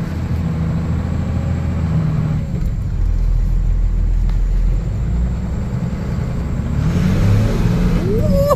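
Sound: 12 valve Cummins diesel truck engine revving

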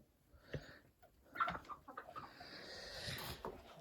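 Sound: rooster clucking

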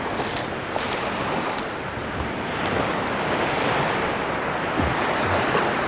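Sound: sea waves on the beach at Dzhemete, Anapa

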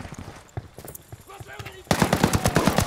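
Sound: machine gun turret firing in video game Ghost Recon Wildlands

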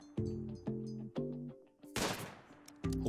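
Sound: gunshot from the video game Rimworld

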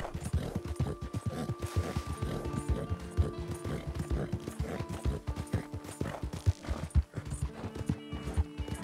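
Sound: horse hooves from a video game

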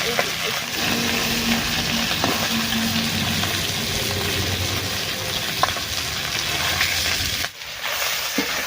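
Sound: fish frying in oil

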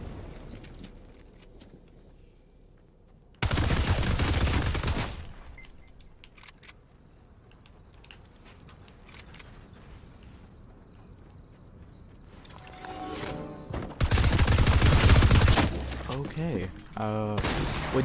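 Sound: gunshots from the video game Fortnite

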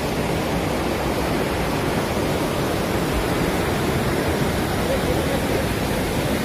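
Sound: waterfall, water falling

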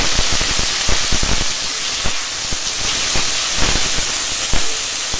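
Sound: sizzling as cut taro and potato go into the curry

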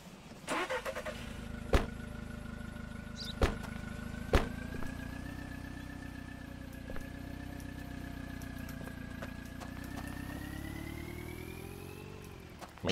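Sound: car engine starting and driving away in Contraband Police video game

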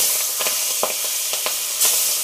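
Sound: fish frying in hot oil

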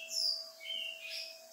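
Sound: bird singing outside

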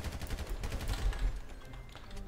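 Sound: gunfire exchange in GTA RP video game

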